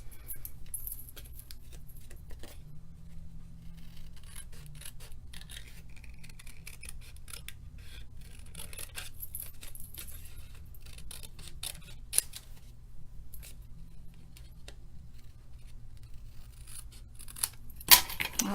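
Scissors snip quietly and irregularly through card for a mini card project, with scattered small cuts over a steady low room hum.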